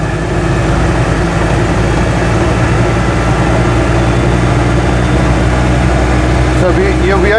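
A three-wheeler car cruising at about 50 mph on a Welsh road, a steady loud engine drone with wind noise, while a person talks over it.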